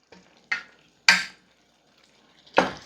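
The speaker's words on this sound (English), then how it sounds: "So we're gonna stir that parsley in." Parsley being stirred into shrimp and melting cheese in a pan, heard as three separate scraping, clattering strokes of a utensil against the pan, close and fairly quiet with stillness between them.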